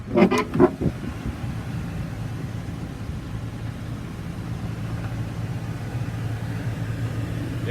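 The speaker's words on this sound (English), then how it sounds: "Engine sounds good." A 2002 Dodge Ram 3500 utility truck engine runs at a steady idle, a low continuous hum close by, with a few knocking clatters at the start.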